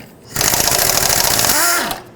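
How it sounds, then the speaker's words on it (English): A power tool buzzes briefly, backing out 10 mm intake manifold bolts on a 1997–2003 Ford F-150, one burst of about a second and a half, close and loud. "I'm gonna take out the 9 bolts that hold it on."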